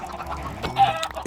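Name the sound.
chicken clucking in the video game Minecraft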